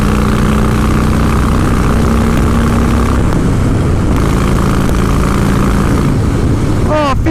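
A 2016 Harley-Davidson Breakout with a Stage 1 upgrade pulls hard in fifth gear on a clear motorway, a loud, continuous engine roar blended with heavy wind buffeting throughout.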